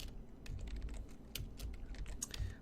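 Fingers type on a computer keyboard, a quick uneven run of soft, close key clicks with short pauses between bursts, fairly quiet and with no talk.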